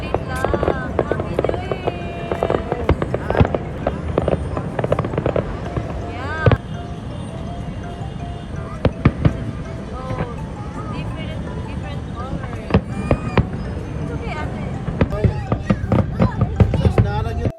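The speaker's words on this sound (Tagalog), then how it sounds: "Nalit lang pala ang fireworks." New Year fireworks burst repeatedly outdoors, with sharp cracks and booms scattered across a continuous crowd murmur and chatter.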